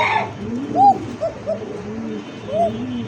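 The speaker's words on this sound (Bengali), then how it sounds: "কবুতর ডাকটা খুব সুন্দর ডাকের ডাক" A pigeon cooing close by, several soft rolling coos in a short sequence with faint background noise and no talk over them.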